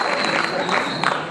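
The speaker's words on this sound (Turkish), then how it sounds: "güçlü bir alkışlarla davet edeceğim" An audience applauds at a dengbej folk singing event, giving a dense, steady patter of clapping throughout, fairly close.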